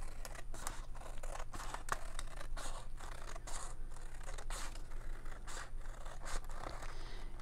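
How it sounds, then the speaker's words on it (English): Scissors snip through the outer paper envelope in a close, steady run of crisp cuts and scrapes with no talking. "so I'm just going to cut that off"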